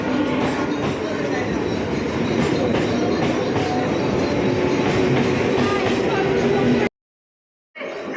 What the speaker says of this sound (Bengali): এখান থেকে দমদম যাব ট্রেনে করে।